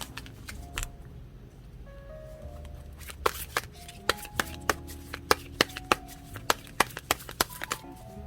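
Tarot cards shuffled by hand in a quiet room, starting with soft slides, then a run of crisp, evenly spaced snaps as the cards are riffled and tapped, with no talking.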